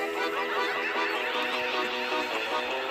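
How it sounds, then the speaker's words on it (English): Free-ranging homestead birds call in a dense, overlapping chorus of honks and cackles. The sound is close and steady with no break, and no voices are heard. "And this is our free ranging birds."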